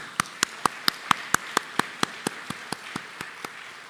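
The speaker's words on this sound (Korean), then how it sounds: "한번 귀한 박수로 환영하겠습니다." Church congregation at a mission conference opening service claps to welcome guests: sharp, evenly spaced claps in a steady rhythm, about four per second, crisp and close, without voices.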